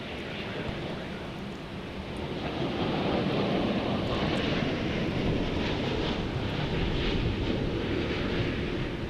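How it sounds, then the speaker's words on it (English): Boeing 787 Dreamliner at DFW airport, heard as a broad, steady roar that swells after the first couple of seconds and holds loud to the end, with wind buffeting the microphone. "we got a Dreamliner on this side"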